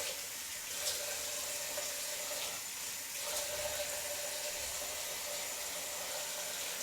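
Water runs steadily from a tap while a face is wetted before shaving, a continuous close hiss with slight splashing changes and no talking.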